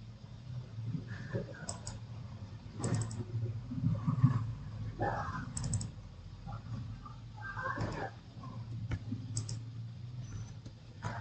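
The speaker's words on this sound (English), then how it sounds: "So then just double click here." A computer mouse clicks and double-clicks while Aveva E3D piping software is in use, giving a few sharp, quick clicks spread over a low steady hum, with a person talking throughout.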